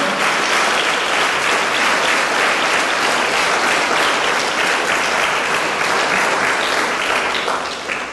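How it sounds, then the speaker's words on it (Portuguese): Congregation applause during a church program, a dense, steady wash of clapping that stays loud and unbroken throughout, tailing off slightly at the very end. "Pode aplaudir o Senhor."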